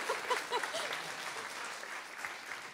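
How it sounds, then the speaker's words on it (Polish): Audience clapping steadily at a school year-end concert of a music school, a dense, even patter of many hands sustained throughout at moderate distance. "Największe brawa."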